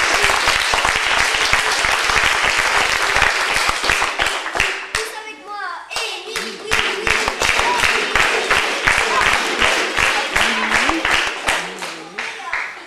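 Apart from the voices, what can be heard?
audience applauding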